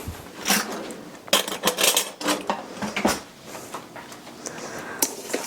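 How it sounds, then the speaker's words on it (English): A spoon clinks and scrapes around a bowl, stirring milk into an Italian meatball mixture, with irregular close clatters and knocks in quick bursts. "Stir that up a little bit."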